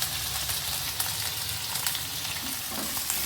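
Cauliflower florets and beans frying briefly in a pan for a homestyle vegetable dal: a close, steady crackling sizzle with faint stirring scrapes, continuous and unbroken, with no voices.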